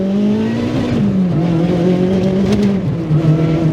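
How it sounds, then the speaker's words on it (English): A supercharged Honda K24 engine in a DC5 Integra Type R with a lightweight flywheel revs hard, its loud rising and falling engine note whining up quickly, heard close and alone without talk. "It has probably the fastest revving engine I've ever seen in any car"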